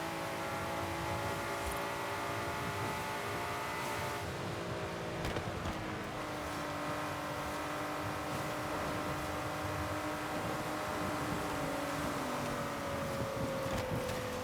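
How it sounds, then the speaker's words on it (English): A car in the video game Forza Horizon 5 drones steadily on one engine note, shifting pitch now and then as it pulls away far off, held continuously under a constant wash of background noise. "Just hear a car flying off in the distance."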